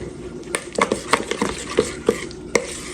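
Chicken drumsticks are tossed with spices in a bowl, giving a series of sharp clinks and wet scraping knocks at an uneven pace, close and fairly loud, with no talking.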